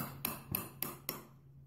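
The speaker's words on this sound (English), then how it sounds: "got a little chisel here, and I'm just gonna knock off the old glue and the old dowel" A small chisel is struck four times in an even rhythm to knock old glue and a broken dowel off wooden furniture, each a sharp, close knock with a short ring, followed by quiet.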